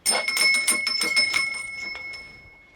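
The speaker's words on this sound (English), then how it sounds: "give the old bell a rattle" An old shop bell rattled by hand, a quick run of bright metallic rings that fades away after a couple of seconds, heard alone.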